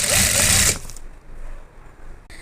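A sewing machine stitches the side seam of salwar pants in a brief, loud burst that stops abruptly, followed by quieter handling sounds.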